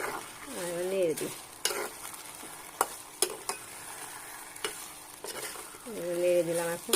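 A spatula stirs spices frying in oil, producing a steady sizzle punctuated by sharp scrapes and knocks against the pan at irregular intervals, with short bursts of talking at the start and end.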